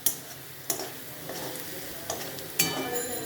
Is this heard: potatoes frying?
yes